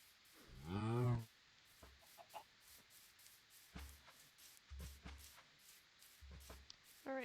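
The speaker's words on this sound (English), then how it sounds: "good to know that we have chickens close by." Chickens cluck in the video game Minecraft: one loud, close cluck near the start, then sparse, quieter game sounds for the rest of the stretch.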